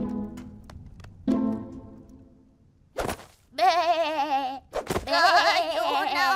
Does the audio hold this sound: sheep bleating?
yes